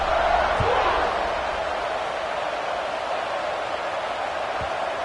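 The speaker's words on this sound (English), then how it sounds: "this crowd is buzzing after that last score" Steady crowd roar fills a college football stadium, a dense, even wash of noise that holds at a constant level throughout with a couple of faint thumps underneath.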